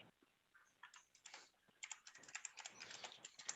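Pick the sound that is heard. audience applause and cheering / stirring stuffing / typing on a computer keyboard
typing on a computer keyboard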